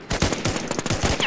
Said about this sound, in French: elle a une pression en carton, cette sulfateuse